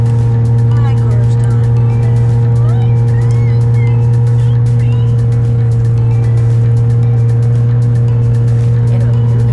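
A car engine rumbles through a loud muffler in a deep, steady drone that stays strong and close throughout.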